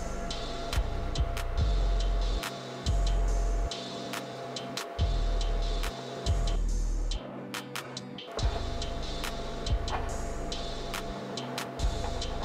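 A Canon LBP722Cdw color laser printer runs through a print job, giving a steady mechanical whir with rhythmic clunks and brief pauses as paper feeds, close and continuous with no voices.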